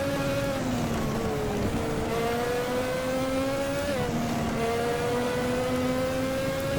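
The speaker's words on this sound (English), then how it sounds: "Ah, this car sounds cool." A Formula Classic race car engine in Automobilista, driven at Jacarepagua, drones loud and close, its pitch climbing steadily through the gears with brief drops at each shift.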